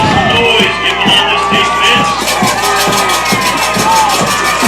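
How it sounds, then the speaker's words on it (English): Loud stadium crowd cheering at a high school football game, a sustained roar of shouting and whoops with rhythmic claps or stomps pulsing through it, close and dense. "the entire stadium feels like they are just cheering for the Warriors"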